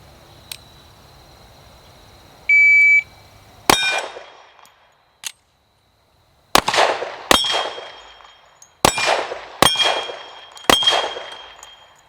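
A pistol fires a six-shot string, the sharp cracks ringing out one at a time at uneven intervals with a metallic clang and decay after each, loud and close, following a brief electronic beep.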